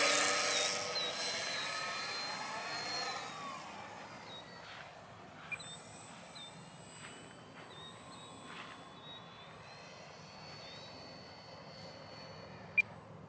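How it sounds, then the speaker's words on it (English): A model airplane flies in to land at night, its faint thin electric whine rising and falling at a distance over soft outdoor background, with a sharp click near the end. "I like the nighttime plane. Let's see how short she'll land."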